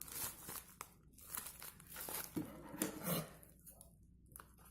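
A plastic package holding an endoscope camera crinkles and rustles close by as it is handled and opened, soft irregular crackles with a few sharper crunches and no speech.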